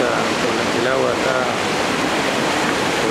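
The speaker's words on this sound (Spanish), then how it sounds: "para ver la fuerza con la que el agua está" Floodwater rushes loudly and continuously through a street trench toward a river, a broad roar, with a faint voice heard briefly in the background.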